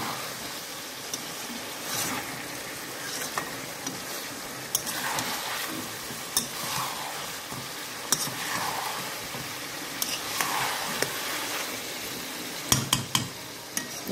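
Chicken kosha with tomato being stirred in a pan, a spoon scraping and clinking against the metal in irregular strokes over a soft sizzle, fairly quiet and close.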